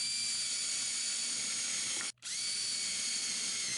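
A power drill drives self-piloting screws into wood, its steady high-pitched whine running close and loud with one brief stop partway through before spinning up again.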